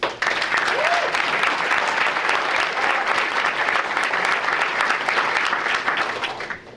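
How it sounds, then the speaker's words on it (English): A school board meeting audience breaks into steady applause honoring a student choreography nomination, loud and sustained for several seconds before tapering off at the end. "The nomination in and of itself deserves a round of applause"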